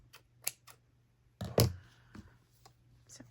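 Scissors cut a piece of thin cheesecloth for a paper craft; a few quiet, close snips and soft rustles come between pauses.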